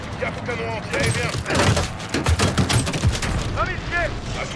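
Rapid bursts of heavy anti-aircraft gunfire and booms from Call of Duty Vanguard at Stalingrad, overlapping in a dense barrage, with radio-style voices talking over the action.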